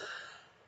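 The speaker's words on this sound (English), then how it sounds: "That sage just got in my lungs pretty bad, so I'm coughing a lot." A single short, faint throat-clearing cough from someone who inhaled burning sage smoke, dying away quickly.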